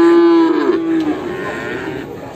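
A single loud, close cow moo with a steady low harmonic tone at a busy Ngadirejo livestock market where bulls and calves are traded, followed by the fainter, mixed murmur of the market background.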